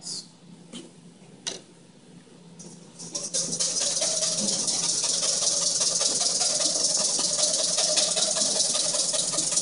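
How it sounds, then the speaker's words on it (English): Egg yolks are whisked over heat into a hollandaise sabayon, with a few light clicks and taps first, then a steady rapid scraping rattle that grows louder and keeps going. "what we're doing is we're whisking this to get air into it"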